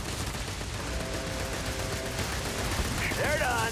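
Bursts of gunfire from the video game Starfield crackle in rapid, dense volleys at moderate distance, layered under a low rumbling game soundscape with a brief electronic warble near the end.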